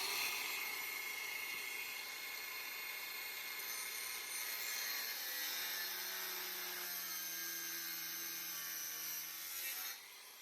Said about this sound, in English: So I'll be shaving the thickness of this down, and I'll be taking the meat off the back of the blades.